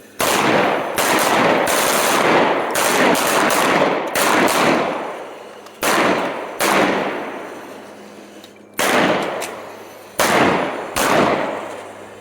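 Handgun gunfire in a tactical shooting drill, bursts of rapid sharp shots in quick strings separated by short pauses, loud and close on an outdoor range.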